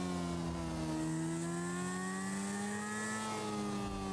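Motorcycle engine in a video game, a continuous humming drone with a steady tone that slowly rises in pitch as the bike revs, running unbroken and fairly loud with no talk.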